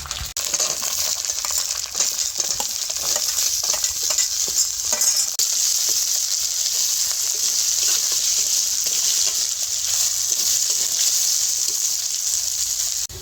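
Chopped potatoes fry with spices in a pan for a Bengali bottle-gourd and prawn ghonto, a continuous close sizzle broken by repeated scraping and clinking stirs, with no talking.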